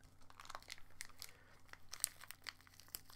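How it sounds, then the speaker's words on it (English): Small plastic bags are torn open with teeth, producing faint, close crinkling and sharp little tearing crackles in irregular bursts. "I'm using my teeth now to open little plastic bags."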